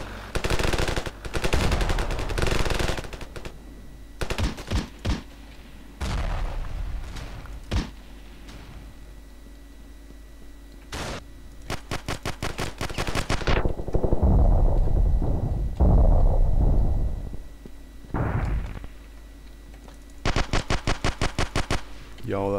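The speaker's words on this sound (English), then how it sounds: "This is like an actual DMR." A DMR rifle in the Ravenfield video game fires in rapid bursts and single cracks, loud and close, mixed with distant battle gunfire and explosions throughout the fight.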